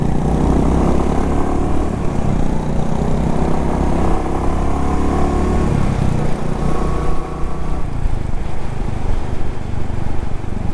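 Royal Enfield motorcycle accelerating up through the gears to about 50 mph, a loud continuous engine drone with rising and falling pitch as it shifts, recorded close up with wind rumble.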